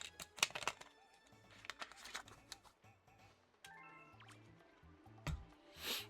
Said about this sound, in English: I'll sip the last of this water